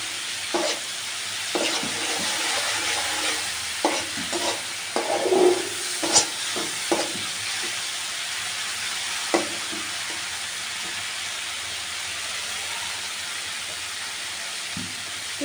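Masala spices sizzle and fry in hot oil while a spoon stirs them, steady frying hiss broken by repeated scraping stirs, close and alone with no talk.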